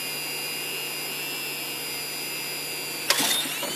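A tiny micro water pump motor whines steadily under about 25 PSI of pressure, a constant close drone with a sudden burst of spray and rushing at the end as a hose blows.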